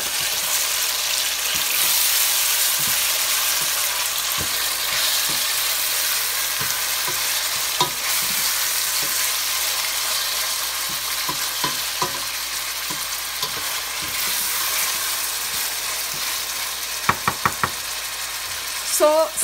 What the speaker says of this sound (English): So since I have stirred my tomatoes, I will cover them and let them cook a little bit.